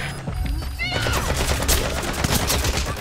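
Sustained gunfire erupts in Metal Gear Solid V: The Phantom Pain, dense overlapping shots and automatic bursts rattling continuously for a few seconds, loud and close, with faint voices underneath.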